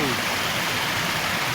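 Steady broadband rush of Nabaroto Falls, a clear-water waterfall, close and loud throughout with no pauses, a faint voice briefly audible at the start.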